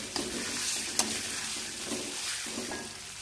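Spice paste of coriander, candlenut, ginger and turmeric stirred and frying in a pan for beef tongseng, a steady close sizzle with a few sharp clinks and scraping strokes, no talk.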